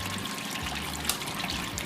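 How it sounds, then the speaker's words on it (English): An electric brewing pump circulates water through a mash tun, a steady trickling, splashing flow with a low mechanical hum underneath, continuous and close, with no voices. "As you heard, the pump just kicked on."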